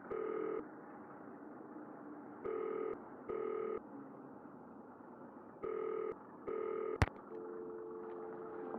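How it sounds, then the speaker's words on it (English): Telephone keypad tones beep in short separate bursts, then a sharp click and a faint ringing tone follow on a phone call in the Nancy Drew: Danger by Design game, quiet and clean. "It's Nancy Drew calling from France."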